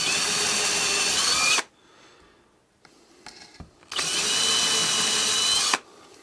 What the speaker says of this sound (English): just before I drilled the holes for them